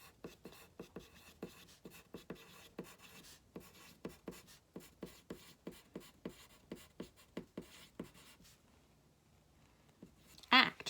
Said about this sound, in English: good thing I was writing in pencil